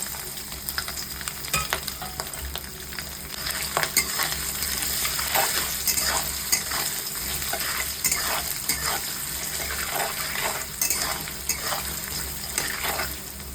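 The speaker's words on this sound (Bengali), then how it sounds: "হালকা লবণ দিয়ে আমি এবার নারকেল কুচিগুলোকে হালকা লাল করে ভেজে নেব।" Grated coconut fries in oil with a little salt in a kadai, a steady close sizzle broken by repeated rhythmic scrapes and knocks of a spatula stirring the pan.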